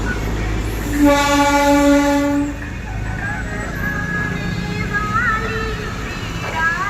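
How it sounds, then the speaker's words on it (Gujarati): A Darjeeling toy train's horn sounds one long, loud, steady blast, followed by rumbling engine and wheels rolling on tracks laid along a road nearby, with voices faintly in the background. "મિત્રો ટોય ટ્રેન નીકળી જાઓ."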